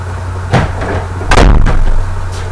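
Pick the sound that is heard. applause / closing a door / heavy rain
closing a door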